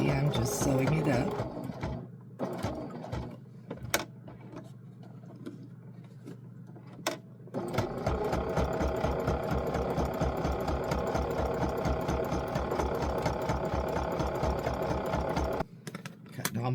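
A sewing machine stitches up a small fabric bookmark in steady bursts. It runs briefly, pauses, then hums continuously through the latter half. Occasional speech is heard over the machine.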